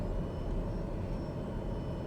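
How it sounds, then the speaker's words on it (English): A TBM turboprop aircraft's engine drones steadily and loud inside the parked plane during engine shutdown after landing, a broad rumble with a thin high whine, holding level without clearly spooling down. "Let's kill the engines."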